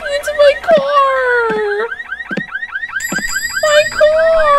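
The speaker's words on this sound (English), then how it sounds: "Thought the mechanic had fixed that alarm problem, but apparently not." A car alarm goes off in the video game VHS Paradise, cycling through loud, close whooping and warbling siren tones in quick repeating patterns, with brief thuds between the cycles.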